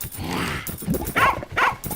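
A dog barks in a farming video game, with two short, bright yips near 1.2 and 1.6 seconds rising out of busy game sounds and a low background hum.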